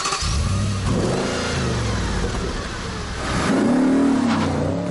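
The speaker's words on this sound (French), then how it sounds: "ce qui l'a trahi plus que tout, c'est le son démoniaque qui s'échappe de son double échappement" An Audi RS4 engine revs hard through its twin exhaust, a loud, close growl that climbs in pitch, eases, then swells again toward the end.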